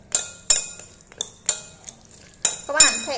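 Spoon clinking against a glass bowl while chicken gizzard marinade with oyster sauce and pepper is stirred, several sharp separate clinks followed by a soft wet scrape, close and clear.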